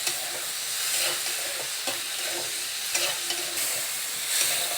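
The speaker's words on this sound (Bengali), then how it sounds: "বেশি কড়া করে চিংড়ি মাছটা ভাজবে না" Prawns frying lightly in oil in a kadai, a continuous close hissing sizzle with soft stirring movements and small bursts of spatter, no voices.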